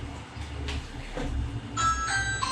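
A Ring Wi-Fi doorbell's chime sounds faintly in a room, a few bright ringing tones arriving in the last second over low background hum.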